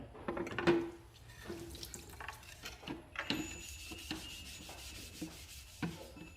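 Tap water runs steadily while an Amway water filter is rinsed and rubbed beneath it, with rubbing and splashing bursts over the flow, close and fairly loud throughout.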